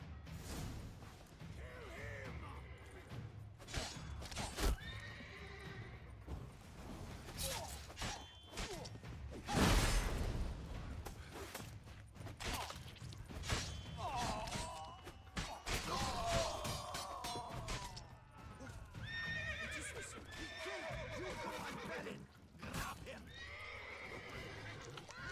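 Horses whinny and neigh repeatedly amid galloping hoofbeats and crashing, whooshing game action in The Witcher 3, with voices speaking over the commotion throughout.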